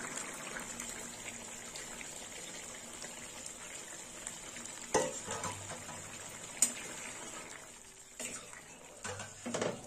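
Chana dal dropped into bottle gourd frying with spices in a pan, a steady sizzling bubble throughout with a few sharp clatters and dull knocks near the end, no talking.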